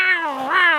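A voice imitates a bobcat's wild cat noise in a remote Nevada desert, giving one drawn-out, wavering yowl that is close and loud.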